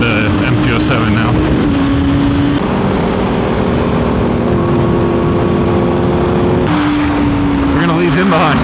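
A Yamaha MT-07 motorcycle engine runs loud and close, holding a steady drone with shifts in pitch as it revs up and settles.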